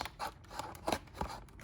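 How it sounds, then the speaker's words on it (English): A storage chip package is unboxed with a few quiet, close crinkles and snips of packaging, brief and irregular, alone without talk. "So we're going to unbox this"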